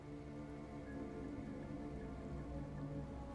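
Steady rain in the video game Wuthering Waves patters continuously over a low ambient hum, with no voices, a dense even wash of drops.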